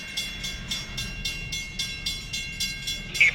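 A train passes nearby with evenly spaced, rhythmic wheel clacks repeating about every third of a second over a thin steady whine, ending with a brief sharp tonal note.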